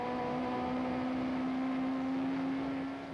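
A Nissan touring car races a VW Jetta at the East London circuit in the 1994 South African Touring Car Championship. The onboard engine note is a steady, close drone with no speech.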